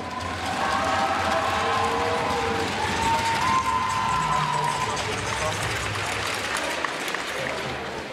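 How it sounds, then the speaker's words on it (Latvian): At a Riga schools superleague final, a big arena crowd gives loud applause and cheering for a team coach being introduced. The roar is sustained and steady, and an announcer's voice carries over it. "Dāmas un kungi, ar skaļiem aplausiem, komandas treneris Kārlis Grauds."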